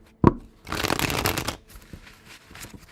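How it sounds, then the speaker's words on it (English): Tarot cards are shuffled by hand: one sharp tap on the table, then a dense riffling burst lasting about a second, followed by softer rustles and card handling that trail off. "Last shuffle."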